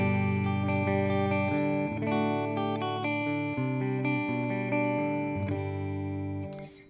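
Clean electric guitar tone played through a Nux Time Core delay pedal and a simulated Fender '65 Twin Reverb amp. Sustained chords and single notes ring loud and close, with each change blending into trailing repeats before fading at the end.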